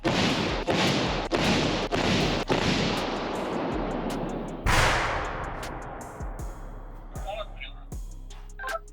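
An artillery gun on a front-line position fires a shot: a heavy, loud blast with a long decaying roar, preceded by several sharp thumps, with voices faintly present.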